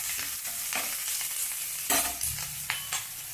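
Onions and curry leaves frying in oil for ridge gourd curry, a loud close sizzle broken by several sharp spatula scrapes and stirs against the pan.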